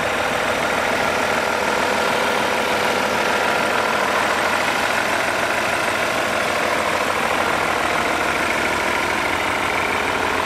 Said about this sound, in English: The 2000 S62 makes a little bit of Vanos noise